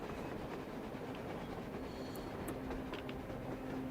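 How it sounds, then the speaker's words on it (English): A working train on the surface in Metro Exodus rumbles steadily, with dense low clatter of wheels on rails and a faint, sustained whine, heard alone without voices. "No, that is a working train"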